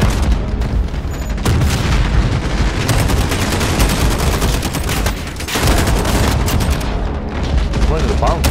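A bomb explosion in the Modern Warfare video game amid heavy combat, with dense booming and rapid gunfire sustained for several seconds, a brief lull, then more blasts, loud and close, with voices talking over it.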